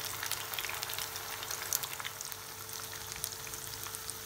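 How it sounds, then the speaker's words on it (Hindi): Spicy fish pieces sizzle and crackle steadily in a hot frying pan, a dense, even hiss of popping oil that continues without pause and with no voices. "अब हम इसको अच्छे से एक साइड फ्राई होने देंगे।"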